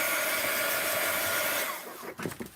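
A heat tool blows hot air over drying painted artwork, a steady close whoosh with a high whine that cuts off near the end, leaving brief faint handling clatter.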